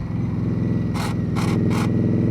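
Indian Scout Bobber motorcycle cornering, with three short, bright scraping bursts from parts touching the pavement over a steady, loud exhaust drone.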